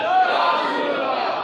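A mosque congregation at a monthly Quran lesson chants a religious slogan in unison in response to the preacher, a loud sustained mass of voices filling the short moment.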